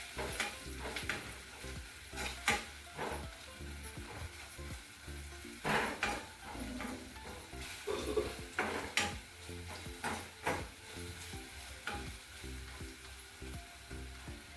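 Fish curry masala with salt sautéing in a pan, a steady sizzle broken by repeated scraping stirs and the clink of a spoon against the pan across the whole stretch.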